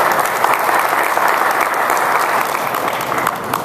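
Steady, dense applause from a crowd, loud and continuous throughout, marking a public announcement about bridges finished months ahead of schedule.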